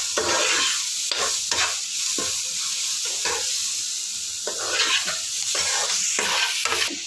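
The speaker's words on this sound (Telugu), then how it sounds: "వెల్లుల్లి కారం కలుపుకున్న దాన్ని ఇట్లా బాండీలో వేసుకోవాలి వేసుకున్న తర్వాత బాగా కలుపుకోవాలి" Carrot mixed with garlic chilli paste is stirred in a hot kadai with a steady sizzle, and a spatula makes repeated scraping strokes at a fairly regular rhythm.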